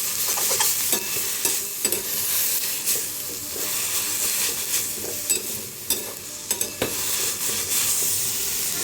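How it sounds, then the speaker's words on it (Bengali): Ghetu leaves being dry-roasted in a dry pan, a close crackling sizzle with frequent scraping stir strokes and light clatters, steady throughout with no talking. "এটাকে শুকনো খোলায় আবার এটাকেও ভেজে নেব"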